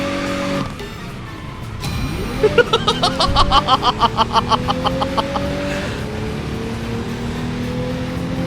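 Racing-game car engine in a Seoul-based driving game, revving up with rising pitch then pulsing rapidly as it hits top speed, loud and close, with brief tire and gear noises and no speech.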